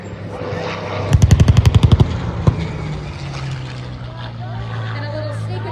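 A warbird from the Tora Bomb Squad of the Commemorative Air Force makes a sneak attack pass at an airshow: a loud engine roar with a burst of rapid sharp pops like simulated gunfire, then a fading drone.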